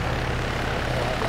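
A helicopter engine in the military video game Arma 3 drones steadily and loudly for the whole moment, with a constant low rotor hum and no speech over it.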